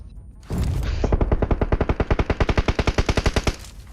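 A rapid burst of automatic gunfire in the video game PUBG Mobile, about two dozen evenly spaced loud shots over three seconds following an initial blast, close and punchy, with no talking over it.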